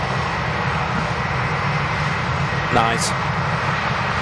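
A British Airways airliner taxis at Manchester Airport, its engines a loud, steady broadband roar throughout, with a brief voice speaking near the end.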